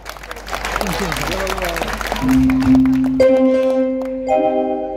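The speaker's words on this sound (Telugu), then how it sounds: "ఇంకా కొంచెం గట్టి చెప్పట్లు కావాలి" Clapping from an audience at a public program builds over the first couple of seconds, then is overtaken by sustained tonal sounds and voices for the rest.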